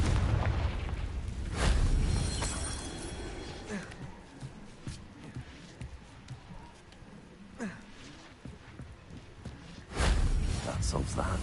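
A Confringo blasting spell in the video game Hogwarts Legacy, with booming explosive bursts and crackling impacts over a rumbling backdrop while a person talks over it.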